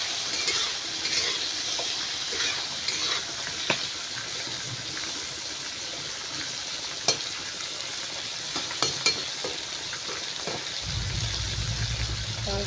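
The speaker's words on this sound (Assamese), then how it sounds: "ছজনাটো আগতে মই এনেকৈ ভাজি ল'ম।" Drumstick pieces with salt and a little turmeric fry in hot oil in a wok, giving a constant close sizzle with scattered clicks, pops and utensil taps throughout.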